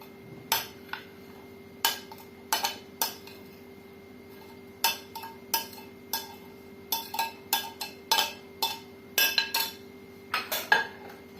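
A utensil clinks and knocks repeatedly against a bowl while eggs are mixed with squeezed grated vegetables, giving irregular sharp taps in quick bursts, close and fairly clear with no speech.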